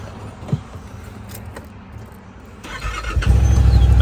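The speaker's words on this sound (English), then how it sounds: "I wanted to fire one of these up so you can hear the engine." A twin-cylinder 1000cc side-by-side UTV engine cranks and catches near the end, rising into a steady low rumbling idle after a few seconds of quiet background noise.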